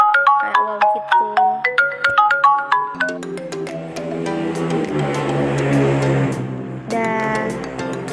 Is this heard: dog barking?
no